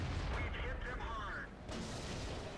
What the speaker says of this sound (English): And artillery finishes the STI off